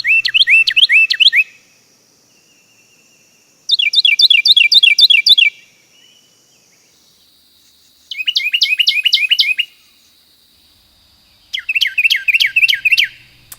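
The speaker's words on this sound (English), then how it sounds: "that's the Carolina wren" Carolina wren song: four loud, ringing bursts of rapid repeated chirpy phrases, each lasting a second or two, separated by short silent gaps.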